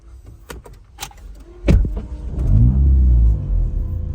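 Inside a homemade car with a rigid engine mount, a few clicks and knocks lead into the engine catching, followed by a heavy, close low rumble and vibration that holds steady to the end.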